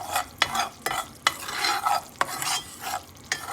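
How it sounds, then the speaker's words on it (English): A browning roux stirred in a pan for Irish potato stew: a steady close sizzle with a spoon dragging and scraping in rhythmic strokes, each pass marked by a soft knock against the pan. "The roux is starting to get brown now. Just keep stirring it."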